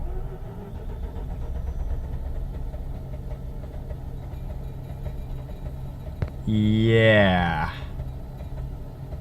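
A 2007 Mazda RX-8 with a hard-starting fault and 81,677 miles cranks with a long, steady low drone, then catches and rises into a loud, climbing rev near the end, with one short spoken word.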